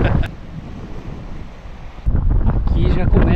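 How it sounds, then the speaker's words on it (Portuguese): Cold wind gusts buffet the microphone near the glaciers of El Calafate, a steady roar that surges louder halfway through, with water and surf washing underneath. "E a hora que bate o vento, gela a alma."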